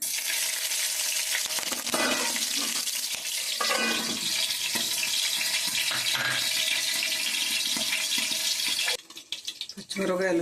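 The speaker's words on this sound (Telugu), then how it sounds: "కొద్దిగా నూనె కాగనిద్దాం. పచ్చిమిరపకాయలు," Green chillies frying in heated oil, a steady close sizzle with crackles and clatter of utensils, briefly dropping out near the end, with a voice talking intermittently over it.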